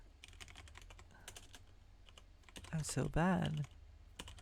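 Keys clatter on a computer keyboard in quick irregular bursts, close and moderately loud, with a person briefly talking partway through.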